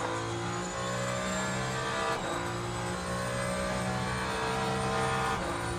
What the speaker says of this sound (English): Oh, that wasn't Yanni, that was an LMP.